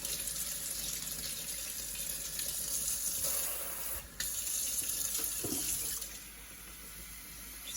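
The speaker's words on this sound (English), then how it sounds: "Just gonna water it all the way through so it's all wet." Tap water gushes steadily and close by onto a potted plant, a continuous splashing stream that briefly breaks, then resumes and softens toward the end.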